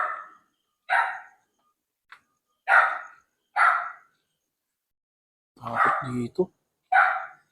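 A dog barks from inside an abandoned school building: around seven sharp, separate barks spaced irregularly over several seconds and fairly close, with a person speaking briefly in between.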